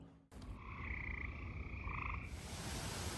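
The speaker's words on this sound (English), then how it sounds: "the voices of frogs and birds echoes throughout the wetlands and forests of the Rouge Valley" A steady chorus of frogs croaking fills the Rouge Valley wetlands, dense and continuous, with two overlapping trilling calls rising and falling over a constant low wash of background calling.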